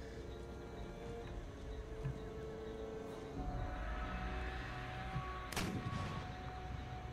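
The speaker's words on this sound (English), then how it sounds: "It's a lot of enemy artillery actually to deal with the front line." Enemy artillery in the Empire: Total War video game, booming at a distance under a steady battlefield rumble, with one sharper blast standing out near the end and no voices.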